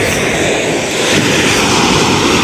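A small drone flies close and loud, its motors giving a steady, dense whirring roar throughout with no talk.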